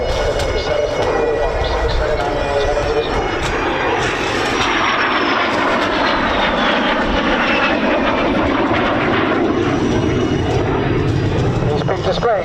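A de Havilland Vampire jet flies a display at an RAF Coningsby families day, its engine roar loud and continuous throughout, with a rising and falling pass over a steady crowd of voices.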